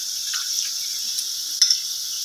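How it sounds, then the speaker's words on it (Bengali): Meat being stirred and cooked in a pot for biryani, a steady soft sizzle with a brief scrape of the spoon near the end, close and fairly quiet. "এই তো এখন নাড়াচাড়া দিয়ে ভালোভাবে আপনার সিদ্ধ করতে হবে মাংসটাকে"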